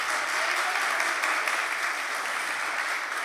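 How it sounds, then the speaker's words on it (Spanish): A dense, even wash of audience applause at a Pint of Science talk in Toledo, many hands clapping to vote for a song, steady and moderately loud throughout with no talk. "quien quiera escuchar una canción de glam metal de los años 90, que aplauda fuerte ahora"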